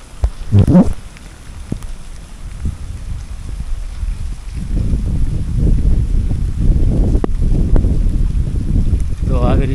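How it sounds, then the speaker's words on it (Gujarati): Unseasonal thunderstorm rain in the Gir region falls as a steady wash of noise with wind buffeting, growing louder and denser after the first few seconds and holding a constant roar to the end. "તો આવી રીતે અત્યારે વરસાદ ચાલુ છે."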